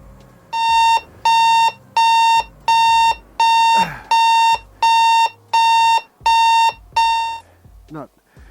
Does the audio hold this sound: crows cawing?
no